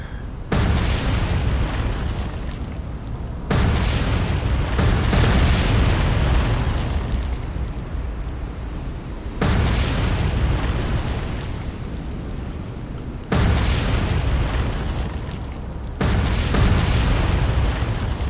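Repeated heavy booms of warship guns firing in the naval combat game War on the Sea, Japanese navy side: five loud, sustained blasts with long rumbling tails, spaced a few seconds apart, with no voices over them.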